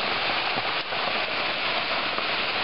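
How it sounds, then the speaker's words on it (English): Heavy hail in April pours down in a dense, steady roar of pelting stones, close and loud with no letup across the whole stretch. "I don't think I've ever seen it hailing this much."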